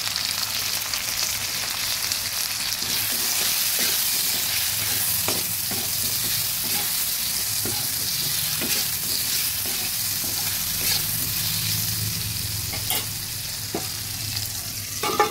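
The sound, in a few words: potatoes frying in oil with salt and turmeric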